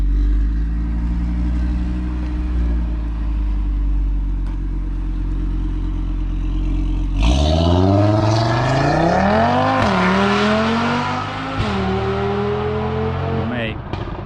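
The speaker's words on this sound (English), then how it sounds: "Owen's going to do a few flybys past" A 2020 Audi RS3, tuned with its particulate filter removed, sweeps past in a flyby: a steady low engine drone gives way to a loud, rising and falling engine note as the car accelerates close by.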